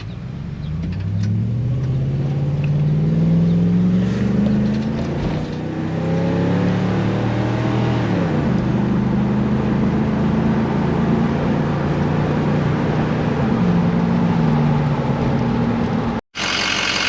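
A Ford 6.0 Powerstroke diesel truck drives along, its engine droning loud and close as revs rise and fall through several gear changes, with steady road rumble throughout.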